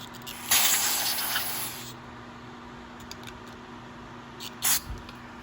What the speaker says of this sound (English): carb spray.